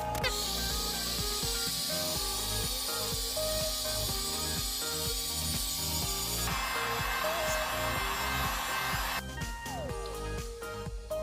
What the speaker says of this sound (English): We're gonna hit it with the heat gun, and then we're gonna add another layer.